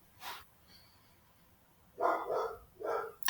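A dog gives a short bark, then after a pause a cluster of louder, breathy barks and snorts follows in two bursts, fairly close and with no talk over them.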